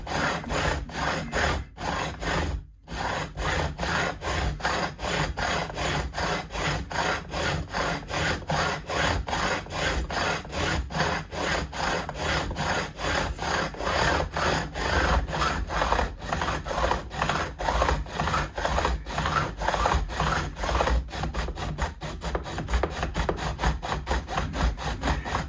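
A file rasps back and forth across guitar fret ends to bevel them, a steady, rhythmic scraping stroke repeated close up for the whole stretch, with the strokes quickening toward the end.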